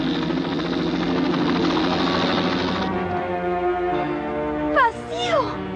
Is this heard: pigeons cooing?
no